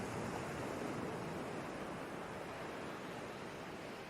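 Broad, steady wash of ocean surf rolling onto a sandy beach, continuous and fairly loud with no distinct breaks between waves, alone without voices.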